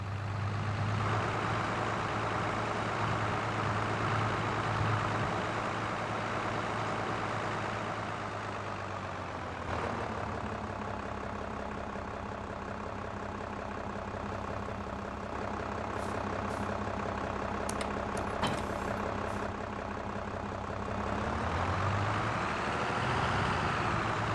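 Tractor engine idling in a realistic farming simulator game, a steady low diesel drone with a constant hum that runs unbroken for the whole stretch, shifting slightly partway through, with no voices over it.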